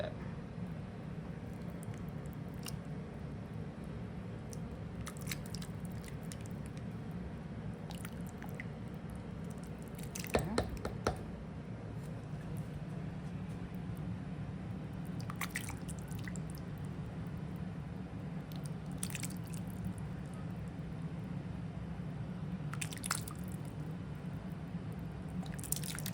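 Black bean soup stirred in a pot, soft wet squishing and sloshing heard up close and quiet, with a few brief clinks scattered through.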